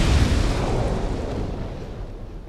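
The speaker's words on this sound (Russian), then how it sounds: "Огненные стрелы отлично взрывают бочки." In Dark Souls 2, barrels blow apart from fire arrows with a loud, deep explosive boom that rumbles and slowly decays over a couple of seconds, heard alone.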